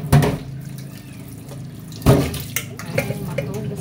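Tap water runs into a kitchen sink where pots are washed, a steady splashing stream with two sharper clanks or splashes, near and moderately loud, no speech over it.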